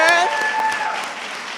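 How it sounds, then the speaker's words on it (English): Applause from an audience at an art showcase awards ceremony rises briefly under a speaking voice, a short, moderate burst of clapping that fades out quickly. "let's give a big round of applause to all of our winners"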